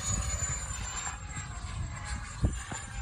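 10s Avanti EDF model jet flying by, a continuous high electric ducted-fan whine heard outdoors at moderate distance, steady with slight swells.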